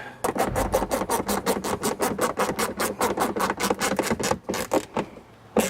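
A ratchet snugs the bumper bolts on a 2018 Ford Raptor. It makes a rapid, even series of about twenty close, crisp clicks that slow and stop near the end.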